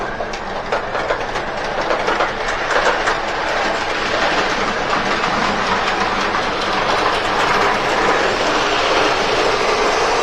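A small model train rattles steadily along its track nearby, a continuous clickety-clack hum with no voices.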